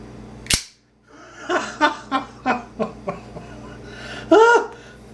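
A Microtech Halo V out-the-front automatic knife, drop point version, firing its blade: one sharp loud snap, then a quick run of six crisp clicks and a final louder snap, close up with no talk.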